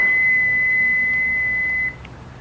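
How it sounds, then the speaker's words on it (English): A single steady electronic answering machine beep sounds clearly and alone, holding for about two seconds before cutting off into quiet room tone. "Leave a message at the beep"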